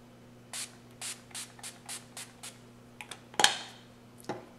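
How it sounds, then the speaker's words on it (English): A rapid series of short makeup setting spray bursts, about ten quick hisses, followed by a louder, longer mist spray and one final puff nearby. "So the last thing I do is I spray on my Mark Mist Opportunity."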